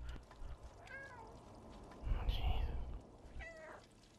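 A stray cat meows in the game Stray, with two short rising-falling meows near the start and another near the end, fairly quiet over a low background hum, with a soft louder rumble in between.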